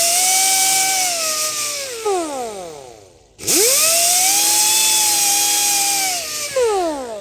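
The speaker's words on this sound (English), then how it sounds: "what's left now is to clean the rust on the caliper bolts for the mounting bolts." A power tool whines at high speed while cleaning rust off the caliper mounting bolts of a 2019 Honda Civic 2.0, running loudly, winding down, pausing briefly, then spinning up again.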